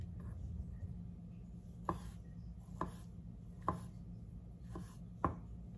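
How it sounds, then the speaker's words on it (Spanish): A knife slices a very ripe peach into strips on a board, five or six soft, evenly spaced cuts, each ending in a light tap, close and quiet against low background hum. "Lo vamos a cortar en rajitas así bonitas."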